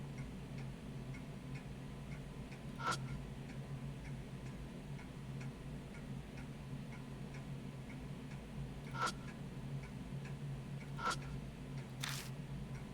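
Clock ticking in the video game Spirit Hunter: NG: a few sparse, faint ticks spaced seconds apart over a steady low ambient hum, with no talking.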